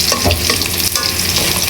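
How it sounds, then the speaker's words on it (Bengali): Onions and chilies frying in a pan sizzle loudly up close, with brief stirring scrapes through the hiss and no talking. "পেঁয়াজ মরিচ ভাজা হয়ে গেল"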